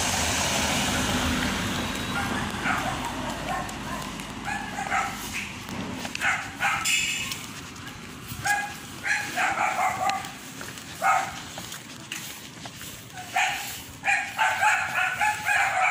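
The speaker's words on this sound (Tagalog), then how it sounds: "Daming aso." Several dogs bark in scattered bursts at a moderate distance, with a rooster crowing somewhere in the background.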